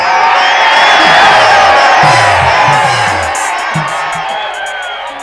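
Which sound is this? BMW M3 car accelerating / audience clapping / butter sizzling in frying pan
audience clapping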